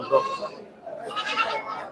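Goats bleat amid the crowd at the Ettayapuram Saturday goat market, with overlapping calls and people chattering close by and all around.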